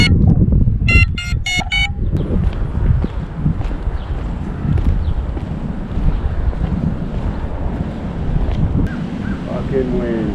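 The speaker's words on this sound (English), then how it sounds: "Fucking wind." Heavy wind buffets the microphone of a rider on an electric skateboard, a loud, constant low rumble that roars on without a break, with a few brief chirps near the start.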